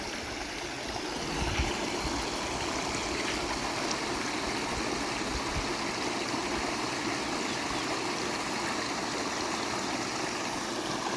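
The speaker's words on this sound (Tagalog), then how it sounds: "Yan, dito flowing water." A stream of flowing water runs beside a hut on a cucumber farm, a steady close rushing and babbling that continues unbroken with no talk.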